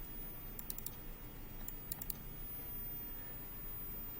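Computer mouse clicks and keyboard keys tap in short bursts of two or three crisp clicks, quiet and close, separated by pauses against a faint room hiss.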